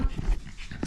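A pet dog at a farm-sitting stay pants in quick, close breaths with a few short rhythmic bursts over about a second, and no talk over it.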